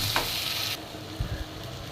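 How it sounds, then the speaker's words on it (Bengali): Raw shrimp fry with onion and garlic in a pan, a steady close sizzle broken by a few stirring scrapes and knocks. "চিংড়ি মাছগুলো যেহেতু কাঁচা, তাই পেঁয়াজ রসুনের সাথে একটু সময় ভেজে নেব যাতে মাছটা একটু ভাজা হয়"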